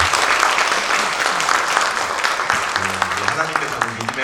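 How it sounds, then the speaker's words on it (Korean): A church congregation applauds together in a sustained burst of clapping that fills the room, dense and steady, with a voice and faint music tones emerging near the end. "하나님께만 한 번 더 영광과 감사의 박수 한번 드리겠습니다"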